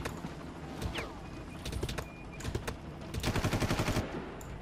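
Machine gun fire in the video game Far Cry, with bursts of rapid shots at close range among other battle noises and a final run of evenly spaced rattling rounds.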